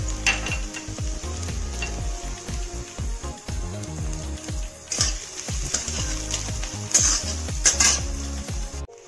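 Chopped onion and green chilli fry with ginger and garlic in a pan, a close sizzle overlaid by repeated rhythmic scraping and clinking of a spatula stirring against the metal.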